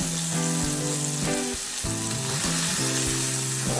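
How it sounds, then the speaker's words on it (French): Shallots frying in chicken fat beside a browned chicken paupiette, a loud, continuous close sizzle with a crackling hiss that holds steady the whole time, with no voices. "j'enlève le surplus gras et je rajoute mes échalotes"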